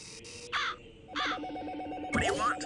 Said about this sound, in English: some birds as well.